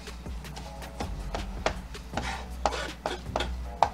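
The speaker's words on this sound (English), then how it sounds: "And we're gonna take about 1/4 of the parsley. And we're gonna chop this up, right?" Knife chopping fresh parsley for a dill remoulade sauce, giving a close series of irregular thuds on a cutting board, a few of them sharper, and no talking.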